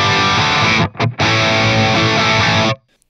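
Heavily distorted electric guitar played through a Fractal AX8 Atomica High amp model, loud sustained chords with one brief choked gap, ringing out before cutting to near silence.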